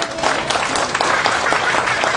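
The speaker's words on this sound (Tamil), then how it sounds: "ய தலைவர் மரியாதைக்குரிய தாமோதரன் அவர்களுக்கு ஒரு பலத்தை கைத்தட்டு கொடுங்க" An audience applauds at a stage event featuring a Siva Sakthi Urumi Melam drum troupe. The clapping is dense and crackling, a steady burst of many hands with no pauses.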